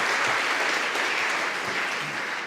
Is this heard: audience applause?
yes